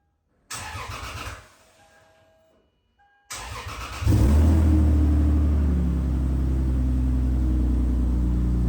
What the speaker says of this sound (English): So we gotta jump the Lexus to get it moved back.